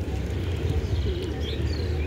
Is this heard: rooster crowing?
no